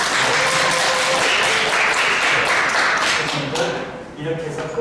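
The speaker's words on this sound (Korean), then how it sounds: "이럴 때 박수를 주더라고요." Applause from professors attending a lecture on AI-based hybrid teaching, a fairly loud wash of clapping that holds steady and then thins out toward the end.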